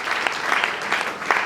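A church congregation applauds during a year-end worship service, steady broadband clapping filling the space with a few sharper accents, no voices over it.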